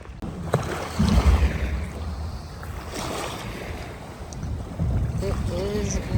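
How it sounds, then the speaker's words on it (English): Strong wind blowing across a winter beach, buffeting the microphone with low rumbling gusts, with surf in the background. "The wind was really picking up here"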